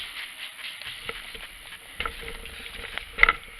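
Vegetables sizzling on a grill over residual heat, a steady crackling hiss with scattered pops and a louder burst of spatter near the end.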